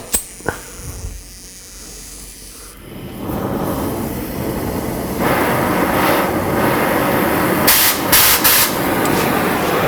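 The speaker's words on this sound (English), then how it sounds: "you have a mixture of acetylene gas and oxygen gas, and the initial flame here is what heats the metal" Oxy-acetylene torch burning an oxygen and acetylene mix during muffler and resonator replacement on a 1976 Cadillac Series 60 Fleetwood Brougham; a few sharp pops at ignition, then a rising, steady roaring hiss that grows louder and continues close up.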